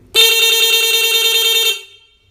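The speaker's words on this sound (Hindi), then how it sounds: "अब हम चेक करते हैं अपने बाइक का जो हॉर्न का बटन है उसको प्रेस करके।" A single steady Honda CD 70 motorcycle horn blast, loud and close, held for about a second and a half before cutting off into quiet.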